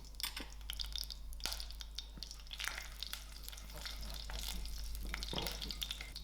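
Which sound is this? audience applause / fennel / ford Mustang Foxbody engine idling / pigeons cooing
fennel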